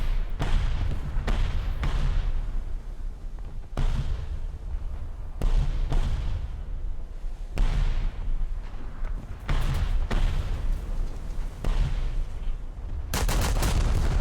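Tank cannon fire in War Thunder during high-tier ground battles: a series of loud, close booming shots at irregular intervals, each with a long rumbling tail, ending in a burst of sharp crackling.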